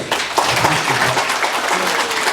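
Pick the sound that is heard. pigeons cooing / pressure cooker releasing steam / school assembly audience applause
school assembly audience applause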